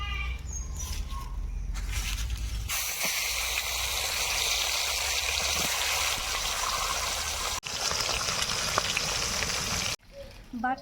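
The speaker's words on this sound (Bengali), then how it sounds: "রুই মাছের মাথাটা ভেজে নেবো" A rohu fish head fries in hot oil, the loud hissing sizzle starting a few seconds in, running steadily and cutting off near the end, with brief talk and kitchen noise before it.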